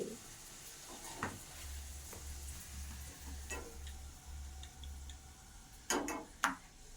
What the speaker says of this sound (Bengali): এই দেখো দুজন মিলে কচুরি ভাজছে।